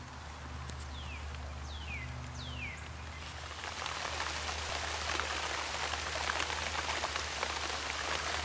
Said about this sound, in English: Seems like all I've been able to film so far today is just sitting in here watching it rain.